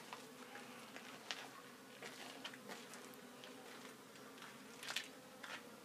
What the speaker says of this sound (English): Look at all those wasps on there.